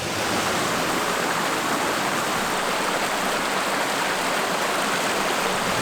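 River flowing at the bottom of a drainage in Zion National Park, a steady, loud rushing of water heard up close and alone, with no voices.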